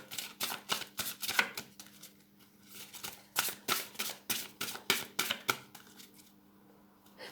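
Oracle cards are shuffled close up in quick rhythmic bursts of riffling slaps, several runs of crisp snapping with brief pauses between them.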